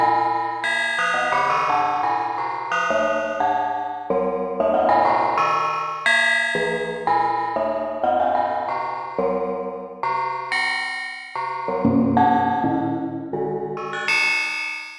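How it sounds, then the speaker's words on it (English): FM bell tones from the Soundpaint software instrument ring out in overlapping metallic, harsh strikes, a dense sequence of bright chiming notes with lingering decays, clear and alone. "Similarly, I use the time rack and offset to get some FM bell sounds."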